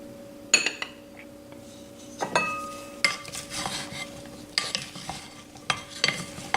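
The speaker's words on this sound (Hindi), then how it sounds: "इन तमाम चीज़ों को मिक्स कर लें।" Chickpea salad ingredients dressed with soy sauce, vinegar and hot sauce are mixed in a bowl, giving intermittent clinks and scraping strokes of a spoon against the dish over a low steady background hum, with no talking.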